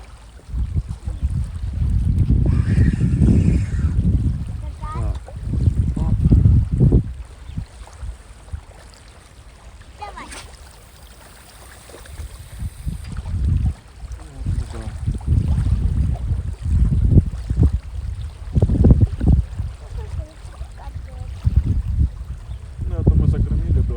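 Strong gusty wind buffets the microphone outdoors at a riverbank while fishing, with deep rumbling roars rising and falling throughout, while someone talks intermittently beneath it.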